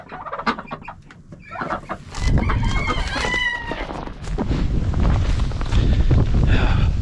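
Chickens huddled in a coop during below-zero winter weather cluck and squawk close by, with a rooster-like call in the middle, over a steady roar of wind that grows louder through the clip.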